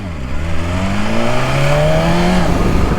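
A BMW S1000RR motorcycle with an unlocked ECU revs hard while riding, its loud, close engine climbing steadily in pitch through the gears over constant wind noise.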